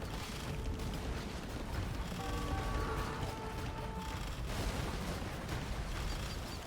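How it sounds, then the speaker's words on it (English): Cannon galleons firing during an Age of Empires II naval battle, a dense, continuous barrage of booming shots and crashes with game sound effects layered throughout, no talking. "Look at all of those cannon galleons."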